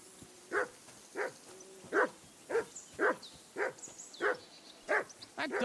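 A dog in the medieval video game Kingdom Come Deliverance 2 barks in a steady series of about nine sharp, evenly spaced barks, moderately close, with faint background ambience.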